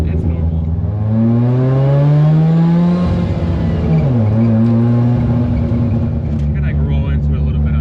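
Drag race car being driven around at low speed, its engine rumbling loudly and rising in pitch before dropping back. The engine holds a steady drone for the rest of the stretch, with some speech underneath.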